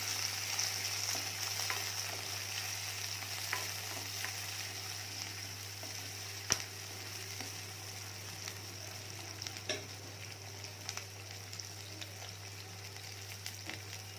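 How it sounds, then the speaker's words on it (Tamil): Onion, green chillies and curry leaves sauté in a pan for a brinjal spicy gravy, giving a steady, soft frying sizzle with occasional stirring clicks, close and continuous, with no talking. "ரெண்டு பச்சை மிளகா, கொஞ்சமாக கருவேப்பிலை போட்டுட்டு இது எல்லாத்தையும் நல்லா வதக்கி விட்டுடலாம்"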